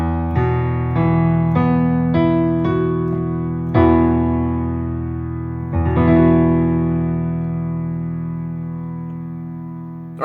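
Piano chords from a song ring out alone, several struck in quick succession early on, then two fuller chords left to sustain and slowly decay, close and moderately loud.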